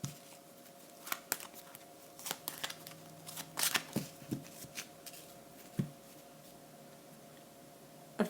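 Tarot cards being shuffled by hand, with a quiet series of crisp riffles and soft snaps in uneven bursts, alone and close by.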